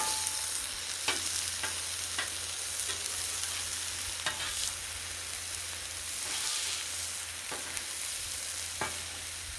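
Pork chops sizzle steadily on a hot griddle, a constant loud frying hiss broken by intermittent scrapes and taps as the meat is shifted to a cooler spot.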